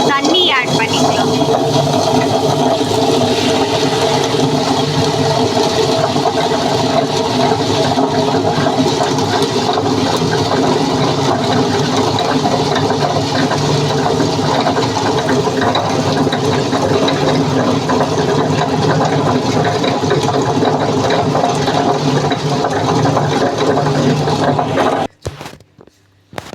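A wet grinder churns soaked grain with water in a steady, loud, continuous rumble. The stone grinding carries a rattling, gear-like texture, the sound runs unbroken for a long stretch, and it stops abruptly at the end.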